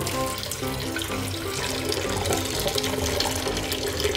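Water pours from a tap for cooking spicy instant noodles, a steady, continuous rushing splash close by that lasts the whole clip.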